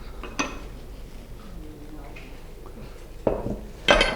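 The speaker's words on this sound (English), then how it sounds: "Let's bring up some plates and some butter." Plates set out on a table in a home kitchen, with a sharp clatter near the start and two more ceramic knocks toward the end, and quiet room sound in between.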